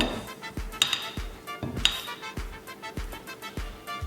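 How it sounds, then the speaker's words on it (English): Cauliflower ceviche being stirred in a bowl, with a steady series of clinks and scrapes at a moderate pace, plus a couple of brighter ringing taps on the bowl's rim. "Now we're gonna give it a nice stir."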